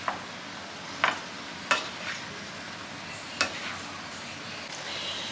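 Ground venison browning in a frying pan, a soft steady sizzle with occasional sharp scrapes of a utensil against the pan, no talking.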